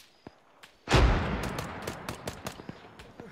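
Gunfire in a military video game set during a special forces training operation: a sharp, loud blast followed by a rumbling tail, then a string of quick, close gunshot cracks.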